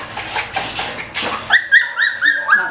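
A small dog whimpers and then lets out a series of high, repeated yips, close and fairly loud, in a short rhythmic burst with no talking over it.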